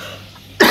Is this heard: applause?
no